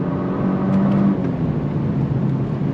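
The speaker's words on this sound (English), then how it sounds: "Nice quick shifts with the paddles, especially on the downshifts." A 2024 Genesis G70 3.3T engine drones steadily and loudly from inside the car, with a brief tonal whine early on, while the revving and gear changes stay indistinct.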